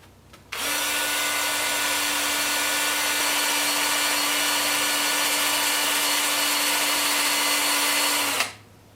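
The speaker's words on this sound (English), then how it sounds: "I'll do that over here on the workbench" A power sander works on a live-edge spalted maple wood bowl at a workbench, a loud, steady whine with an abrupt start and a winding-down stop after about eight seconds, with no voices.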